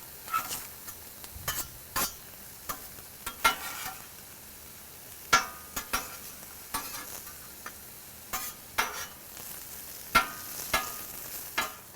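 Thinly sliced garlic sizzles in a hot pan while cheesesteak meat cooks, a steady crackling hiss broken by frequent scraping stirs and metallic spatula taps, with no talking.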